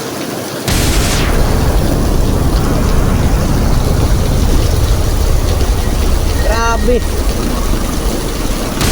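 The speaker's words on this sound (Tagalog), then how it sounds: "Ang lakas ng ulan." Heavy rain pours down steadily at 6:30 in the evening during a thunderstorm, a loud, dense, continuous roar of rainfall after a brief quiet start, with a voice exclaiming briefly over it.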